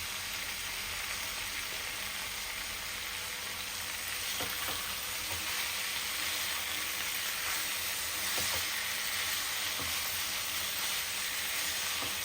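Food frying in a pan during home cooking, a steady loud sizzle and hiss throughout with occasional faint stirring scrapes and no talking.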